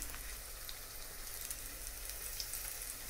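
Red mullet fillets fry in a pan with a steady, close crackling sizzle that holds even throughout, with no voices.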